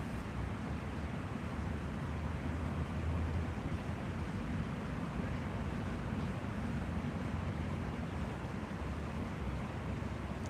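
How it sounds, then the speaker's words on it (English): Steady rushing water with a broad wash of surf-like noise and wind buffeting the microphone, constant and fairly close throughout, in an outdoor setting in Japan; no distinct birdsong stands out over the water. "see if you can hear like the birds and then the water"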